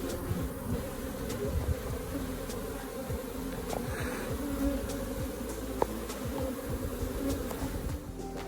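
Honey bees buzzing around their crowded hive after swarming for lack of room, a continuous close drone of many insects with frequent individual bees flying by near, alone with no talk.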